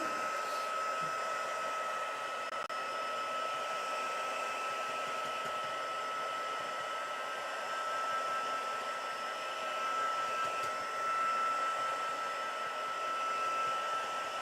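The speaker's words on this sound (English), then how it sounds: "I'm just going to run my heat tool over it quickly" A heat tool blows steadily to dry wet ink on card before embossing powder goes on, a constant close whooshing hum holding even for the whole stretch with no talk.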